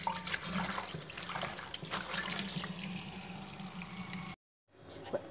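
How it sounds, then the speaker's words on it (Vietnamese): Tap water runs steadily into a container to rinse and soak ingredients for vegetarian sausage, a close, even splashing stream that cuts off abruptly near the end before a brief faint trickle. "Giờ mình để nước vô đây mình ngâm, mình rửa đi rửa lại"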